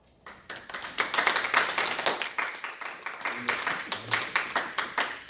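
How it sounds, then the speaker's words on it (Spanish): A church congregation breaks into applause, a dense burst of many hands clapping that swells after a brief lull and holds steady for several seconds, fairly near and loud. "¿Por qué no se da usted un aplauso?"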